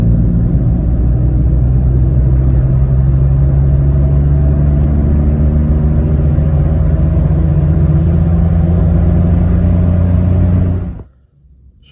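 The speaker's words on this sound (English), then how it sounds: "I'm going to also try a 40 mile an hour fourth gear pull" A Citroen C1 engine pulls hard in fourth gear from 40 mph, a loud, steady droning rumble that holds for about ten seconds before cutting away abruptly to near silence.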